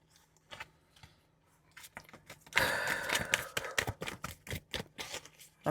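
Hex Hunters oracle cards shuffled by hand, a quiet irregular riffling that starts faint and turns into a denser run of crisp flicks and snaps partway through, close to the listener with no talking.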